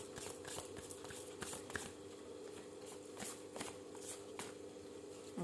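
Tarot cards being shuffled and drawn, a steady run of soft papery riffles and flicks close by over a constant low hum, with no voices.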